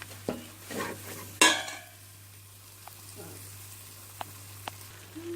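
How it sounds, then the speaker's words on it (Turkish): Flour roasting in a little margarine in a pot makes a soft, low sizzle, with a sharp scrape near the start and a few faint taps after, quiet and close. "Biraz unu kavuruyoruz ki un kokusu çıksın."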